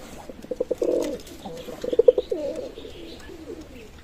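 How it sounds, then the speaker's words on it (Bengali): A pair of teddy pigeons in a loft, cooing in low, throaty, rolling phrases close by, with a few soft chirps and a quiet background. "ভিউয়ার্স, এক জোড়া টেডি কবুতর আছে"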